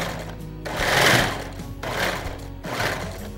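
A sewing machine in poor condition runs in three loud, close bursts of rapid whirring stitches while sewing curtain strips, with brief pauses between the runs.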